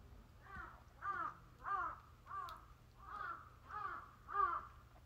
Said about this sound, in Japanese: すごいカラスが